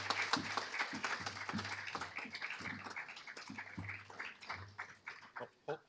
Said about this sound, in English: Hold the applause, please. Hold the applause.